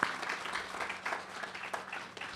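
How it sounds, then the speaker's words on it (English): Crowd at a grand opening applauding, a fairly faint, distant patter of many hands clapping steadily for a couple of seconds, without talk over it. "I want to give you another round of applause for not forgetting us"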